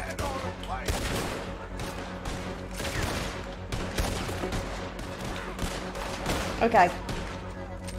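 Gunshots ring out across a Red Dead Redemption 2 gunfight, with sharp cracks scattered over steady in-game background noise and a voice talking briefly between them.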